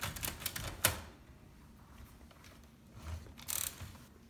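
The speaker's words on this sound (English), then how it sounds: "Here's your backspace lever right here." Backspace lever on an Oliver No. 11 typewriter being worked, giving a few sharp mechanical clicks and ratchet snaps, one loud near the start and a small cluster near the end, with quiet pauses between.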